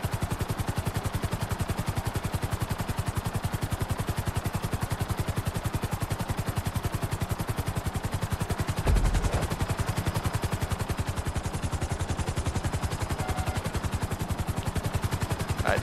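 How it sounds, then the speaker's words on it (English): A helicopter flies in Grand Theft Auto V, with a steady, rapid rotor chop and engine drone that holds loud and constant throughout, with a brief thump partway through. "So for me, landing the helicopter is probably one of the hardest parts. Flying it isn't too bad."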